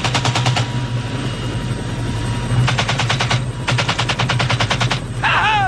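A helicopter heard in loud rapid rhythmic bursts of thudding rotor chop over a constant low engine drone, close and dominant, with no talking.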